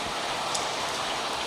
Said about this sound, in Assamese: এনেকুৱা বৰষুণ প্ৰথম আহিলে এইবাৰৰ।